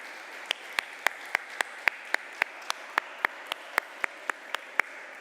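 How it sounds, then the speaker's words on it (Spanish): A church congregation claps in unison during a Spanish-language sermon, sharp evenly spaced claps in a steady rhythm, about three per second, faintly reverberant and without talk. "Yo quiero que le demos un aplauso al Señor porque Él es el Rey,"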